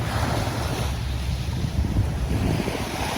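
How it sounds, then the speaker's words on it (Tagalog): Strong waves surge at Manila Bay in the rain, a steady loud roar of surf mixed with heavy wind buffeting the microphone, with no talking. "Malakas ang alon at umuulan."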